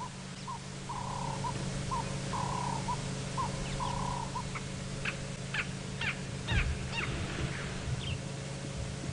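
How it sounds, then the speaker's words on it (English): A Cape turtle dove's soft repeated cooing calls, followed by a run of sharper bird calls, over a steady low background hum. "Cape turtle dove calling."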